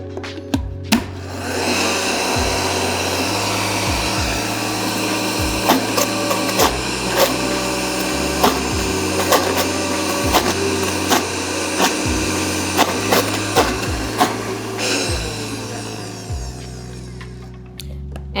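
A blender runs steadily at high speed, emulsifying olive oil into a cashew crema, with a continuous motor whine and occasional bumps and knocks as the blend churns, loud and close with no talking.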